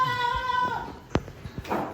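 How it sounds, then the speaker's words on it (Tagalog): Goats bleating on a farm, a drawn-out tonal bleat followed by shorter calls and thumps, moderately close, with faint voices in the background. "Dami nung kambing nila oh."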